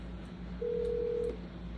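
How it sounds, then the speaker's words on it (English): A single phone dialing tone plays for an outgoing call, one steady beep under a low electrical hum and faint background noise. "so I'm gonna give her a call back real quick"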